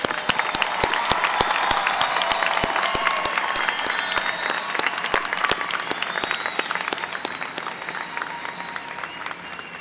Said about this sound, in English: can we please recognize all those who have been honored tonight with our applause?